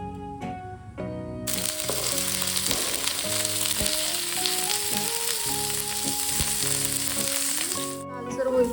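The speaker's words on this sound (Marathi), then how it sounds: "तेल टाकून पनीर भाजून घ्यायचा." Paneer strips frying in hot oil in a pan for a home-style paneer curry, a steady loud sizzle that starts abruptly and runs continuously under a tonal melody, with no talk.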